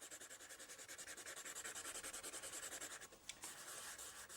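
A colored pencil rubs back and forth on drawing paper in quick, even strokes, a soft, close scratching that keeps a steady rhythm and briefly pauses near the end.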